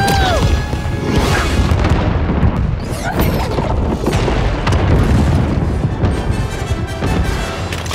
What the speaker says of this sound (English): The control ship has been destroyed!